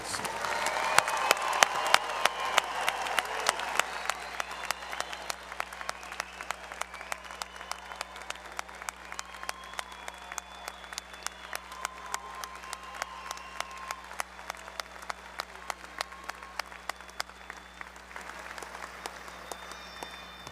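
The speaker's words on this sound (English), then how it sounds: "Let's give all of our graduates today a big round of applause." Sustained applause for graduates at a college commencement ceremony, steady clapping from a large seated crowd, loudest in the first few seconds and then settling into a long even patter of many hands.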